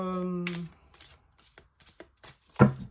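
Tarot cards are handled for a reading, with soft flicks and taps and a brisk riffle-like burst near the end, following a short hum at the start.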